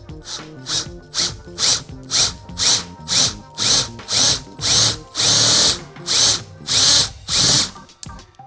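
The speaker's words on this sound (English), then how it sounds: "Just take a standard, just a regular drill." A regular power drill bores out the rivet heads holding a window sweep on a 1964 Cadillac Eldorado, giving a string of short, loud whirring bursts that lengthen into longer runs, with brief pauses between.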